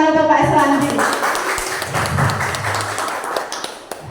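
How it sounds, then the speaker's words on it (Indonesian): Audience clapping at a school seminar, scattered claps under a voice at the start, continuing unevenly as a moderate patter with occasional louder taps. "Beri tepuk tangan untuk Pak Islandi."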